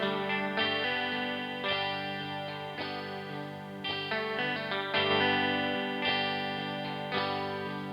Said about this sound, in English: Here's the chorus.